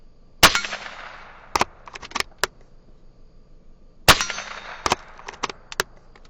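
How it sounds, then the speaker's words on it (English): Two sharp rifle shots, several seconds apart, are fired at a target about 100 yards away at night. Each crack is followed by fainter echoing cracks and pops, with no talking. "Go ahead and take a shot."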